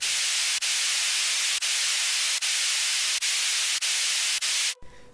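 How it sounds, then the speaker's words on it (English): A loud wash of white noise from an electronic dance music top-end layer hisses steadily, briefly dipping in a regular pulse, with nothing else over it, before cutting out at the end. "I'll put some white noise or pink noise layer."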